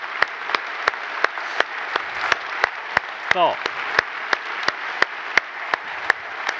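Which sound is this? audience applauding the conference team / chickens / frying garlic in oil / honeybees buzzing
audience applauding the conference team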